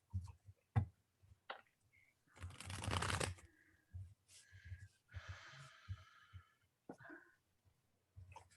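Tarot cards are shuffled during a reading class, a single brief riffle standing out from quiet room noises, with soft breaths and small taps around it, all faint.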